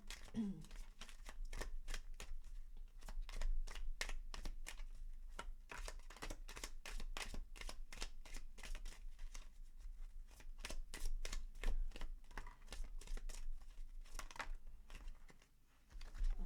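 Romance Angel oracle cards are shuffled close by in a long run of crisp, rapid flicks and riffles, soft and papery, keeping up a steady rhythm throughout with no talking.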